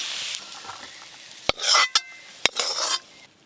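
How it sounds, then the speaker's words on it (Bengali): Bottle gourd leaves stir-fried in a pan give a soft sizzle, broken by a few sharp scrapes and knocks of a utensil against the pan and short bursts of stirring, close and clear with no voices. "এবার শুধু একটু ঝরঝরে করে নেবো এইভাবে নেড়ে নেড়ে"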